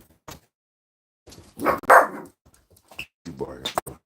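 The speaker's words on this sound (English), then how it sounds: "What you barking for?" A kennel dog barks in a few loud, close bursts mixed with yips, while someone talks nearby between the barks.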